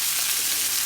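Ribeye steak sears in a hot pan during a brief reverse-sear finish, giving a steady, loud, close sizzle and crackle that fills the whole second with no talking.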